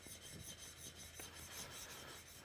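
A steel chisel is rubbed back and forth on a sharpening stone to work off the burr, producing a faint, quiet rasping scrape with a soft rhythmic stroke pattern and one brief sharper tick.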